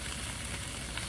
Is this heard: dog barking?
no